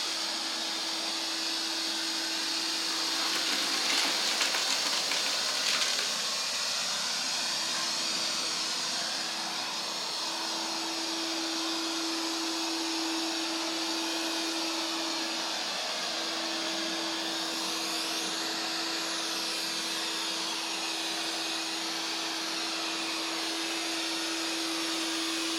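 A eufy RoboVac L35 robot vacuum runs indoors with a loud, steady whir and a constant motor tone. It holds at an even level throughout, with a brief rougher patch early on and no voices.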